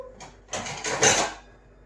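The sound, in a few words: small plate placed as a cover over a hot drink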